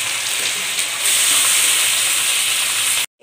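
Onions drop into hot oil already frying potatoes, bay leaves and garlic for spicy mutton kosa, giving a steady loud sizzling hiss that cuts off abruptly at the end, with no talking.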